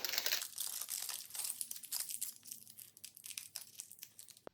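Aluminum foil is handled and crinkled while preparing to remove semi-permanent nail polish, giving a steady stream of crisp crackling and rustling close by, with sharper crunches throughout and no talk.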